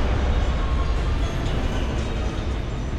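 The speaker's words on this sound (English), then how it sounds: "this is the sound of a roller coaster" Roller coaster ride sound effect from the video game Return to Monkey Island, a continuous low rumbling clatter like cars rolling on a track, steady and fairly close, with no voices.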